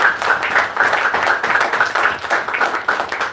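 Congregation applauding during a church service, a steady rhythmic clapping of many hands that keeps going without a break and stays fairly loud from start to finish.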